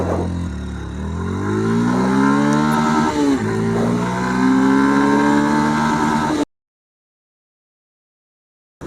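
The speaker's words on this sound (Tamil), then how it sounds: "ஸோ இந்த வண்டியோட 0 to 60 எவ்வளோ ஸ்பீடாக போகுது அப்படின்றத" Yamaha FZ-S V4 motorcycle accelerating hard from standstill toward 60, its engine note climbing through several gear changes with short dips between them, loud and close, then cutting to silence.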